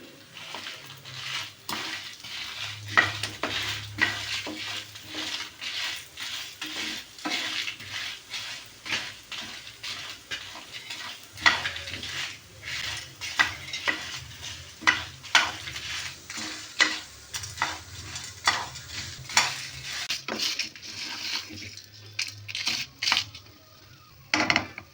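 Whole spices, star anise, cloves and twenty dried red chillies are dry-roasted in a pan, with repeated scraping and stirring strokes and faint sizzling against a low hum, close and continuous.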